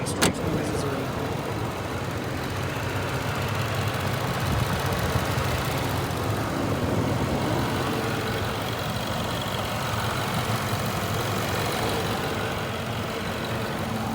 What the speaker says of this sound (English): Oh, and we've got the hood open, so we can show you the engine.